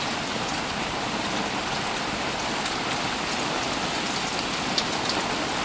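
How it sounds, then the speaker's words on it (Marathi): Rain falls steadily outdoors, an even hiss of drops on surfaces continuing throughout without voices. "पाऊस पण आलाय तुमच्यासाठी."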